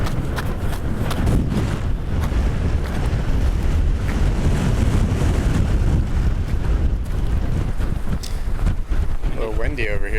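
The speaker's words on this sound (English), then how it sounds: "A little windy over here. It's windy." Strong wind blows across the open terrain of an off-road park, buffeting the microphone with a constant loud roar while voices speak faintly underneath.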